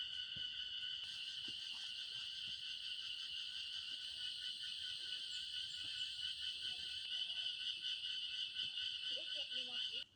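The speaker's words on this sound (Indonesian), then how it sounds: "masuk hutan tertutup dan jalan akar menanjak, ditemani suara jangkrik hutan" Crickets in the forest on Mount Salak, West Java, chirp in a dense, steady high-pitched chorus that holds at an even volume throughout, with no voices.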